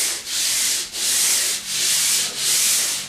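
Popcorn ceiling texture being scraped off discolored sheetrock, four loud, close rasping strokes of even length with brief pauses between them, no talking.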